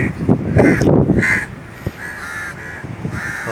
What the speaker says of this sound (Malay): Banyak lah burung gagak sini.